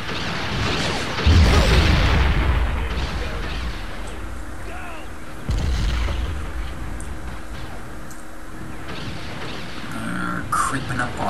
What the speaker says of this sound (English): Mortar right on target, though, like that shot.